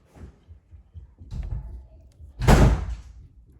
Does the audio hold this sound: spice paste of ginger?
no